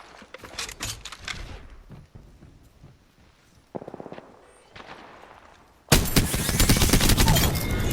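Automatic fire in a video game from a turbocharged weapon: scattered clattering bursts and a quick mechanical rattle, then a loud, sustained stream of rapid shots that closes out the clip.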